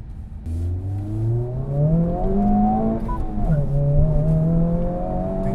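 A nearby Honda Civic Type R engine revs up and down, its pitch rising and falling smoothly over several seconds against steady background rumble.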